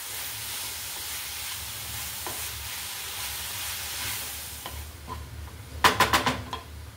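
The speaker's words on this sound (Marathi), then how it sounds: "आता हे छान आपण हलवून घेऊया।" Jaggery and freshly grated coconut modak filling is stirred in a pan, a soft steady sizzle and scraping, with a few sharp spoon-on-pan clinks near the end.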